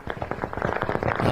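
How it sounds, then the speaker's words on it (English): Rapid bursts of gunfire crackle in war footage, dense overlapping pops coming in quick irregular succession at moderate distance, sounding like firecrackers. "Yeah, that's a lot of gunfire."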